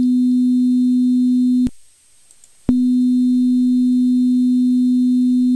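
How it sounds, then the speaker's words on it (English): A pure sine wave test tone hums steadily and loudly, cuts off for about a second of near silence, then resumes unchanged until the end. "Sine wave."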